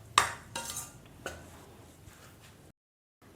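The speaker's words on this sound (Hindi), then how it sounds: "हमने इसमें मिल्क पाउडर को अच्छी तरह से मिक्स कर दिया।" A metal spoon stirs and scrapes milk powder into roasted gram flour in a pan, with a sharp clink at the start, a few scraping strokes, then brief silence.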